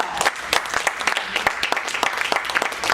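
A church congregation claps together in lively, uneven applause during a sermon, with sharp overlapping hand claps sustained throughout at close to moderate distance.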